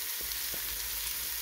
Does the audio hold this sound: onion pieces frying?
yes